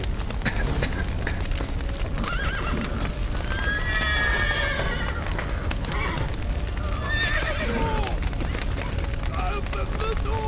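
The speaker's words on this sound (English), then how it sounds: "Horses!" Horses whinny repeatedly in The Witcher 3: Wild Hunt over a loud, chaotic din of hoofbeats, crashing noise and shouting voices.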